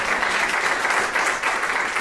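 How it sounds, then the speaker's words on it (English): Steady audience applause for Vicki at a sporting director announcement for San Diego FC, a dense, even wash of clapping that fills the whole stretch without pause. "How about applause for"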